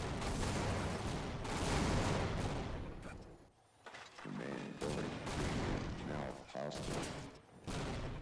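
Grenade spam and heavy weapons gunfire in a Team Fortress match, dense continuous rattling fire and blasts at close range with a brief lull in the middle, a commentator's voice mixed in.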